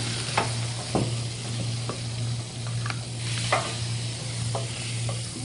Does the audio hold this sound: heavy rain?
no